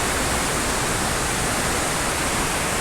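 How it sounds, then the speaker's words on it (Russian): Steady, dense roar of water plunging into the river at Iguazu Falls in Argentina, a broadband wash that stays constant and close throughout, with no voices over it. "Смотрите, друзья, еще рядом можно увидеть, как падает вода. Прям сюда вниз, в реку."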